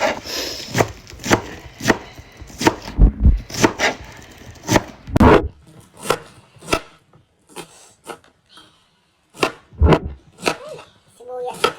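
Knife chopping vegetables such as celery and cabbage on a board while preparing sotanghon, with irregular close, crisp strokes in short bursts and pauses and a voice talking in between.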